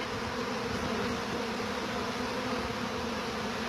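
A dense cloud of honeybees drones continuously during a live removal from a house soffit, a steady, even hum filling the space close by with no pauses.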